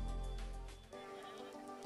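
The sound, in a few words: goat bleating at a temple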